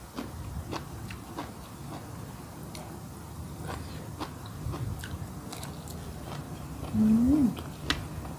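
Someone eats spicy Thai papaya salad with blanched shrimp, bitter melon and leucaena greens, giving soft, close chewing and crunching bites over a steady low background with faint clicks.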